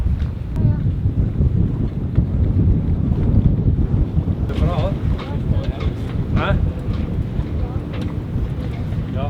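Strong wind roars and buffets across open water off Tobermory, Scotland, aboard a sailing boat under engine with sails down, a continuous low rumble with some faint voices and creaks in the background.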